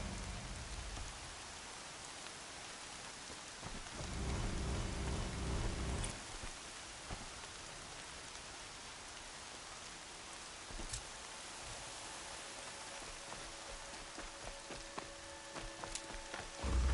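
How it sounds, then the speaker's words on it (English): Steady rain in the video game Horizon falls in a dense, even hiss throughout, with a few heavier low rumbles mixed in, continuous and without any voices. "Here comes the rain."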